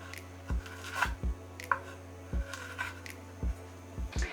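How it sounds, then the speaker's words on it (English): A knife chops through a jalapeno pepper on a cutting board, cutting each half lengthwise down the center. About eight sharp, evenly spaced thuds ring out close by, with a few faint scraping rubs between the knocks and no talking. "Then you'll cut each half once down the center."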